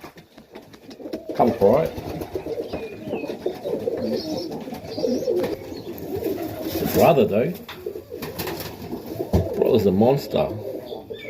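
Young Serbian highflyer tippler pigeons coo close by in soft, repeated rolling calls, heard under a voice talking.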